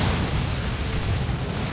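Heavy, continuous rumbling explosions from a Dawn of War 2 battle between Tyranids and Space Marines, loud and dense throughout with no pauses or talk.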